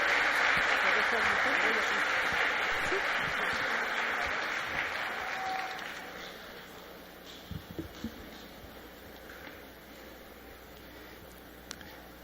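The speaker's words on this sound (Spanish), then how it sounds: "Recibamos con un fuerte aplauso al Padre Luis." Sustained audience applause in a hall at a Eucharistic congress greets a priest, loud at first and gradually fading, with a few scattered isolated claps trailing off at the end.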